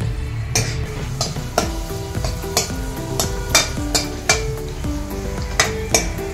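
Onion and green chili fry in oil in a pot for matar paneer biryani, a low sizzle under repeated metallic clinks and scrapes of a spoon against the pan at a steady, close rhythm.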